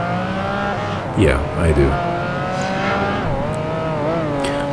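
A Ferrari Enzo, the 660-horsepower 2002 supercar, races in Project Gotham Racing 2, its engine droning steadily with harmonic pitch shifts and a brief squeal midway, under a man's speech.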